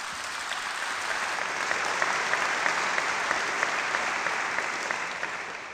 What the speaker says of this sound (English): At professional conferences, their keynote speeches are applauded